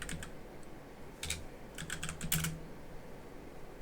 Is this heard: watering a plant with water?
no